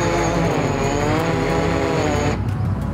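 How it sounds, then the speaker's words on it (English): A small consumer drone's motors whine steadily with a high rotor tone as it descends by itself near a flooded state park beach, loud and close, then cutting off abruptly near the end. "my drone just landed on its own"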